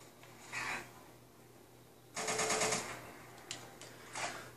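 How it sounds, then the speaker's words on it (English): A gunfight with gunners in the game Fallout 4, with bursts of rapid automatic fire, a longer loud volley in the middle and scattered shorter bursts, all heard at a modest level. "I'm in the middle of a gunner gunfight, so hang on, let me take these guys down first."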